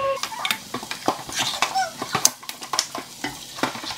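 Diced tomatoes tipped into a soup pot of sautéing vegetables and stirred, giving a run of close wet scrapes, soft clatters and faint sizzling in irregular bursts, with no talking.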